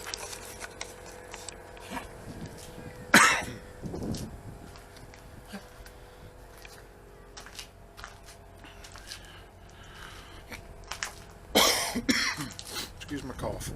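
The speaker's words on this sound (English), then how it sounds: "Excuse my cough." Two sharp coughs, one near three seconds in and another near twelve, break a quiet background outdoors beside a freshly painted Clausing 4912 lathe, with faint shuffling between them.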